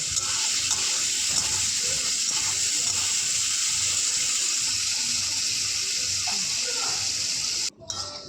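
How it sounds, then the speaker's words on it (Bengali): Constant loud sizzling of salted potatoes frying in a pan, an unbroken hiss that cuts out abruptly near the end. "এবার আমি এটাকে ভালো করে লাল লাল করে ভাজবো"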